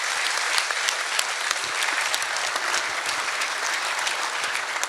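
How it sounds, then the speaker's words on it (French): An audience at the inauguration of a rugby club's performance centre breaks into loud, continuous applause, a thick, even roar of many clapping hands with a few sharper claps standing out and no talk over it. "Je crois qu'on peut les applaudir"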